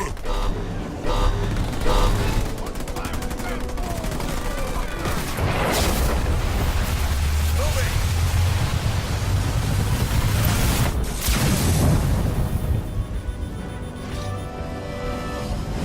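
Explosions and weapon fire from a Halo Wars 2 battle roll on continuously, with heavy low booms and crashing bursts swelling around the middle and again near the end, dense and loud throughout.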